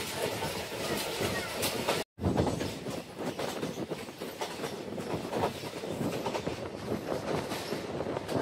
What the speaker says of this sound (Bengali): এখান থেকে পুরো ট্রেনটাই দেখা যাচ্ছে